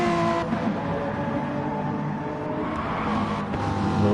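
BMW race cars roaring past at speed during a close wheel-to-wheel battle, a dense, steady engine howl with shifting tones filling the whole stretch, loud and continuous with no gaps.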